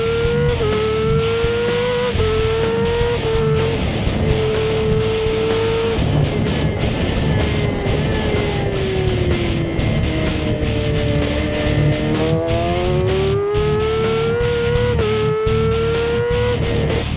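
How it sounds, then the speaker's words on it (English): Superstock racing motorcycle ridden hard at Knockhill circuit toward the chicane, a loud onboard engine scream rising and falling through gear changes and throttle shifts, continuous and close with no talk. "driving the bike hard as you approach down towards the chicane"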